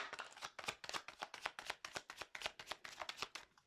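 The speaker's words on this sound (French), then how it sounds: "le temps que je bats les cartes" A deck of tarot cards being shuffled by hand in a steady run of crisp riffling bursts, roughly four per second, close and clear with no voices.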